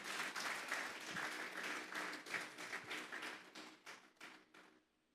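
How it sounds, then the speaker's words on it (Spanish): A church congregation breaks into sustained clapping, loud and close at first, then thinning out and fading over a few seconds, with no voices over it. "Vamos a darle un fuerte aplauso pues al Señor."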